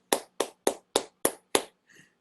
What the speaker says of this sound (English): All right, everyone, you can unmute yourselves and we can applaud.